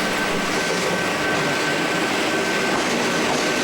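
A diesel 86 class locomotive, unit 8650 with an unusual Bo-Bo axle arrangement, rolls past in a loud, continuous rumble with steady broadband noise and a faint tonal whine throughout.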